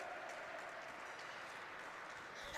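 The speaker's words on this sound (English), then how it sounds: "So give them a round of applause." A crowd at the 2025 Canadian Women's Open squash event applauds as the men's players arrive, dense, even clapping heard steadily at moderate volume across the whole short stretch.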